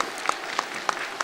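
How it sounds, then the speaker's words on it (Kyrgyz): A studio audience on a Kyrgyz TV show claps in a steady rhythm, with about five evenly spaced claps standing out over a soft wash of noise. "Кол чабуулар жаңырсын"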